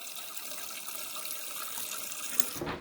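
Purified water runs steadily into a cup as a continuous close pour, ending in a brief louder splash just before stopping.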